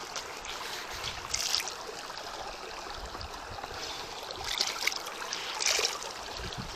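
A river stream flows outdoors with a steady, soft rushing and trickling, fairly quiet and distant, with a few brief louder splashes rising over the constant water noise.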